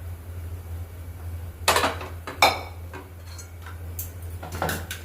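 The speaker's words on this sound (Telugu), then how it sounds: "ఇలా స్టవ్ మీద ఒక కుక్కర్ పెట్టేసుకొని ముందుగా మనం ఇవన్నీ వేయించుకున్నాం కదండి, ఆయిల్ అనేది వేసేస్తున్నాను ఇందులోకి" A pressure cooker sits on a stove while oil goes in for a mint pulao, giving a few sharp metallic clinks and clatters of cookware over a steady low hum, with no talking.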